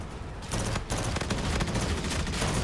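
Continuous, loud automatic gunfire in Battlefield 2042, a dense rattle of rapid shots that starts after a brief quieter moment and holds steady, close and relentless.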